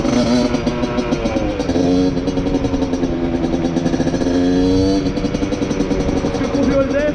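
A carbureted 50cc motorcycle engine drones steadily while riding, its note rising and easing with the throttle, with a voice talking over it.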